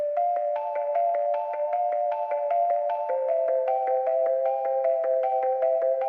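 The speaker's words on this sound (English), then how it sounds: "I added an ARP, which is from Virtual Riot's preset junkie pack, and it's called In Memoriam" The In Memoriam synth arp preset from Virtual Riot's Preset Junkie pack runs a bright, fast pulsing pattern of repeating notes that steps through a few pitch changes, steady and up close with no voices.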